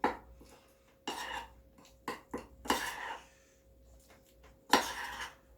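Egg salad seasoned with salt and black pepper being mixed in a bowl, a few distinct scraping clinks of a utensil against the dish at irregular intervals, close and quiet, with no talking.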